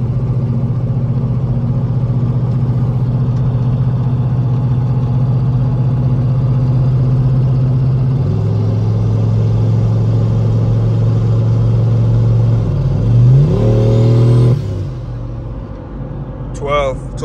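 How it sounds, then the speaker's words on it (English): Turbocharged Chevrolet Tahoe engine on a test drive, a loud steady idle-like drone that shifts pitch midway, then rises in a revving sweep before dropping off, heard from inside the vehicle. "Just imagine if I add a torque converter on here to give the thing time to spool the turbo."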